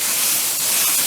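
Water sprays steadily from a nozzle during an appliance cleaning job, a loud, continuous broadband hiss that stays even throughout, close and alone.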